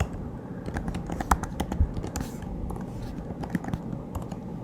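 Steady run of keystrokes on a computer keyboard while a function name is entered, close and moderately loud, with irregular clicks and no voice over it.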